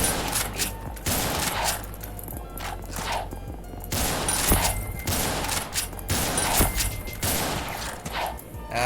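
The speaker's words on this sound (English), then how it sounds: "that's the hunting rifle." Hunting rifle firing in the video game Ragdoll Universe, a series of sharp, loud gunshots spaced about a second apart, with mechanical clatter between the shots.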